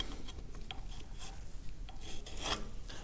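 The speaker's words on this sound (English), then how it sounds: "we've got a bunch of old grease to dig out of here" Old grease is scraped and dug out of a Caterpillar D2 track roller with a metal tool, giving repeated short rasping scrapes and occasional light metallic clicks, close and fairly quiet.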